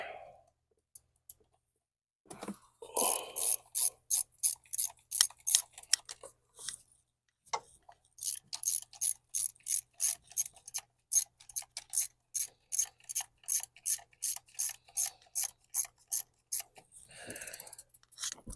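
A ratchet tightens the eccentric actuator on a 2007 BMW X3, producing long runs of crisp, rapid, evenly spaced clicks, close and loud, broken by brief pauses and a few softer handling sounds.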